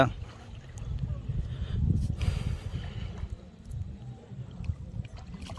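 A country boat on the sea near Pamban bridge gives a steady, close, low rumble with water washing against the hull throughout, while a voice talks faintly underneath.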